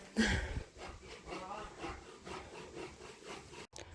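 Hand saw cutting wooden boards for a garden flower bed border, a rhythmic rasp of repeated back-and-forth strokes, fairly faint and close.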